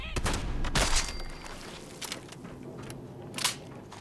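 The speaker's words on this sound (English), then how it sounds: "That is a 10mm pistol" Gunfire from a 10mm pistol in the Fallout 76 video game, a few sharp shots with the loudest burst near the start and isolated cracks later, heard over a steady background bed.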